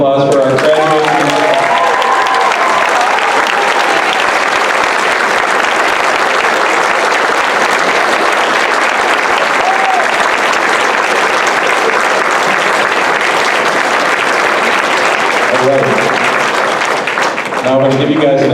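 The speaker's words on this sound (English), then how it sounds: "Let's have a round of applause for our graduates." Sustained audience applause for graduating students at a school band concert, steady and dense clapping filling the room for most of its length, with a few voices near the end.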